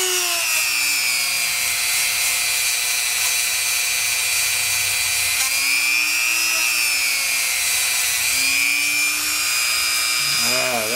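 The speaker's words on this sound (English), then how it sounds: "we're going to do that on our Dremel over there. Let's start out with the inside first." High-pitched whine of a Dremel rotary tool polishing the inside of a sterling silver ring, running steadily and close with slight pitch shifts as the load changes, continuous for the whole stretch.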